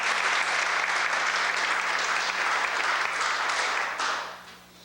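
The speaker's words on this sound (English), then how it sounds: "Let's give them a round of applause." An audience at the Preble County Pork Festival Queen contest applauds the pageant contestants in a thick, steady wash of clapping that tapers off in the final second.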